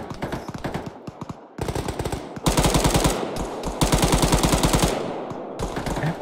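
Rapid automatic gunfire in the military shooter Arma 3, with dense rhythmic bursts that grow louder and continue almost without a break, heard alone with no talking.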